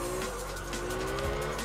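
Tire squeal and skidding from a drifting car in the video game Absolute Drift, a sustained whining screech over a steady engine drone as the car slides out of control.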